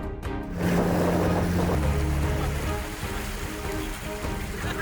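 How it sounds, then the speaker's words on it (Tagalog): Boat engine drone mixed with rushing water and splashing on a boat ride in Hagonoy, Bulacan, loud and steady, easing slightly toward the end. "kailangang sumakay ng bangka upang mapuntahan ng isla"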